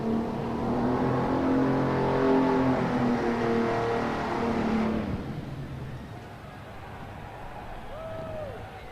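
A California Superstock drag car engine revs at an indoor farm machinery show, a loud sustained roar with rising and falling harmonic pitch for about five seconds before dropping to a lower idle rumble, with faint talk in the background.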